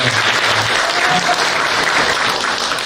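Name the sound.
audience applause at party convention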